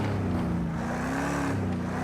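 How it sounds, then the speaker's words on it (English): A race car engine in the Project Cars 2 racing game drones steadily at close range, its pitch shifting slightly with the throttle over a brief stretch. "let's have a watch of the throttle here"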